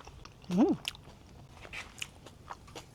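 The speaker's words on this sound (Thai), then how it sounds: "เคี้ยวโดนหอม โดนแครอทอย่างกรอบกรุบกรุบ" Crisp bites and crunchy chewing of a tuna sandwich with carrot, a few close, quiet crunches and smacks with one louder bite near the start, then softer chewing.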